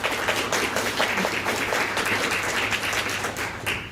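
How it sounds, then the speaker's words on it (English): Audience applause in a room at a student panel discussion, a steady dense wash of clapping throughout, fairly close and loud, with a low hum underneath. "So please, let's give them a round of applause for being here."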